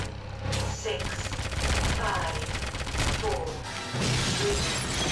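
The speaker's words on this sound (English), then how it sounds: "we just gotta keep shooting" Rapid gunfire from the video game 007 Agent Under Fire, set on an Evil Summit mission, crackles in dense, continuous bursts with mechanical clatter, loud and close, with a brief lull near the four-second mark.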